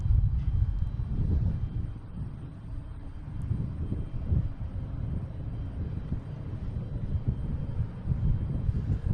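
A Delta Embraer E-175 regional jet bound for JFK takes off from Boston Logan, a steady low engine rumble with wind buffeting that stays fairly constant and distant throughout, with no voices.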